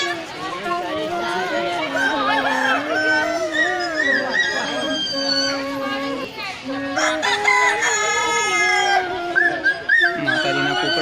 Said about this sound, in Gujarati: માતાજીના કુકડા તમે જોઈ શકો છો.